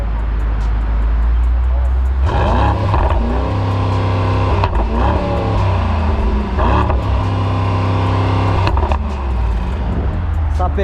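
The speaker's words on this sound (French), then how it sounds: "là on va vous faire écouter quand même l'échappement" Mercedes AMG GT 63S with 639 hp rumbling at idle, then revved hard several times, with rising and falling exhaust roars, loud and close in Dubai, with people talking over parts of it.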